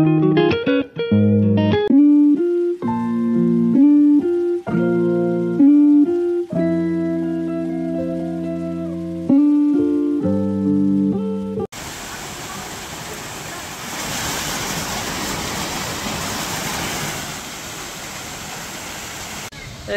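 Music plays for the first part, then cuts to a loud, steady rush of falling water from the waterfall at Rock Garden in Darjeeling, broad and constant, heard up close.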